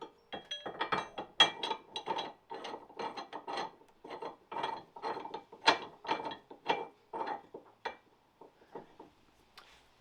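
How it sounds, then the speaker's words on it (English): A ratchet wrench clicks in quick, close bursts while a shackle is installed on a budget truck build. The ratchet is faulty, and the rapid pawl clicks come in uneven runs that slow and soften toward the end, with no talking. "I've been given a dud ratchet here."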